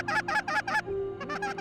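Geese honk loudly and close by, four quick calls in a row, a brief pause, then a few more honks.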